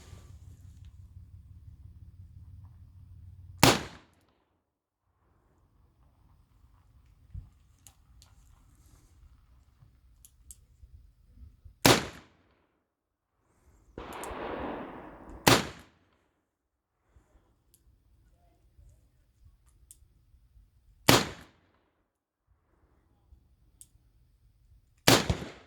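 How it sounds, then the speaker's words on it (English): Five sharp, loud revolver shots test-firing .41 Long Colt handloads formed from .38 Special brass outdoors, spaced several seconds apart with quiet gaps and a brief rustle between them. "here's an actual test of the ammo"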